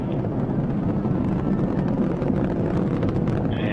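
Atlas V 401 rocket engine at full thrust during the MAVEN launch, a steady, heavy, distant roar with deep rumble and no breaks, heard alone.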